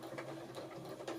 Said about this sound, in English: So now I can just start stitching.